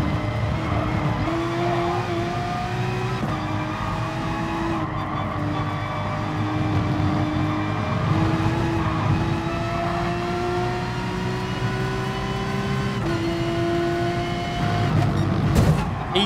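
Race cars circling a track in GT Sport, engines droning and shifting pitch as they accelerate and brake, with tire squeal and several cars close together, loud and continuous throughout.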